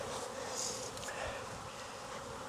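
Honeybees buzz steadily around an open hive in a Florida apiary, a close, continuous hum with individual bees droning past, alone without talking.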